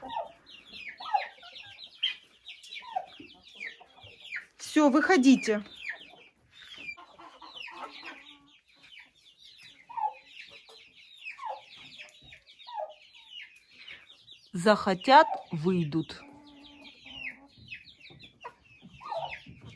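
Chickens in an outdoor enclosure clucking and chattering softly throughout, with two louder bursts of squawking, fairly close, while a person speaks briefly.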